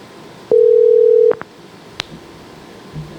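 Telephone dial tone as a call is placed, a single steady loud tone lasting under a second, followed by a couple of faint clicks and a brief sharp blip in an otherwise quiet line.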